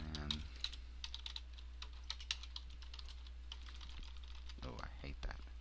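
Rapid typing on a computer keyboard, a close, uneven run of crisp key clicks with short pauses and a brief murmur of voice near the end.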